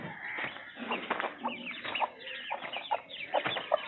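Chickens cluck in a rural yard near an old charpai, a busy overlapping chorus of short clucks and calls at close to moderate distance, continuing throughout.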